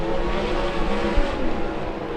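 360 sprint cars race at Keller Auto Speedway with a dense, constant engine roar that swells briefly as the pack runs close by.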